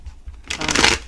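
A deck of tarot cards riffled and shuffled close by, a quick soft flutter building to a louder burst of papery clicks.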